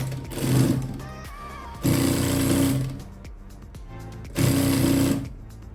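A sewing machine runs in three separate bursts, each about a second long, stitching a top seam on cloth. Each burst is a rapid mechanical whir, loud and close, with quieter handling between bursts.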